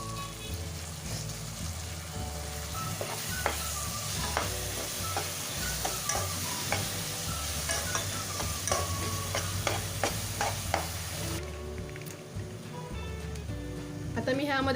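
Tomato puree being stirred into pea masala in a hot pan, with steady sizzling and frying under a voice, scraping stirs and clinks scattered throughout at close range.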